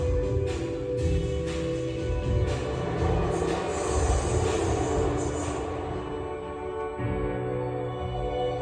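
Underground mail train at the London Postal Museum running through a tunnel, a steady loud rumble of wheels and rail with rattling and faint high squeal throughout, no voices.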